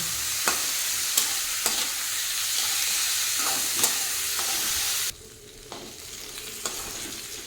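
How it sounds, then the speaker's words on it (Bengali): Mung and masoor lentils frying with flat beans in oil in a home kitchen pan, a steady close sizzle with periodic spatula scrapes and stirring clatters; the sizzle drops quieter partway through, then continues with occasional knocks. "এখন শিমের সঙ্গে ডালগুলোকেও ভেজে নেব"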